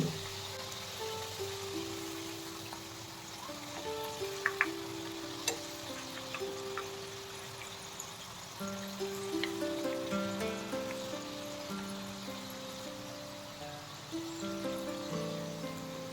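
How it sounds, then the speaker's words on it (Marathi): Oil bubbles and sizzles softly and steadily as fafda deep-fries, with faint background music and an occasional small pop. "छान असे कुरकुरीत होईपर्यंत हे तळून घ्यायचे"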